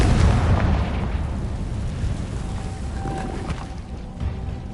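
A Confringo fire-blast spell goes off in a PS4 wizarding game, a loud opening boom that rolls into a long, dense rumble and crackle and slowly fades over several seconds.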